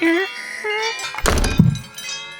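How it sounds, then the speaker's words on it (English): A cellar door in a haunted house bursts open with a single heavy boom and brief rattling crash, rising out of spoken narration. "Suddenly, the cellar door flew open with a booming sound."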